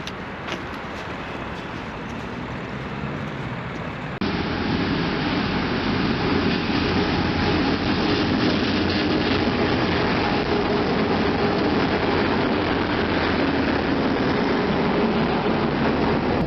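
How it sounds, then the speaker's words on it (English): Steady, loud rumble and rattle of an overnight passenger train from Kayseri to Kars, Turkey, rolling along the tracks at night, a continuous broadband roar that grows louder after a few seconds. "Мы едем в поезде. Сейчас ночь."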